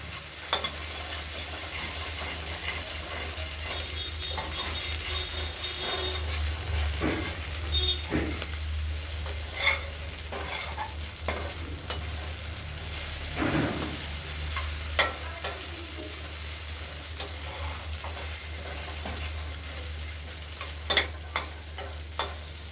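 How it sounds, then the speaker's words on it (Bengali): Spring onions frying in a wok, stirred now and then: a steady close sizzle with scraping and clinking of the utensil, lasting throughout with no talking. "পেঁয়াজকলিগুলো আরেকবার নাড়াচাড়া দেবো।"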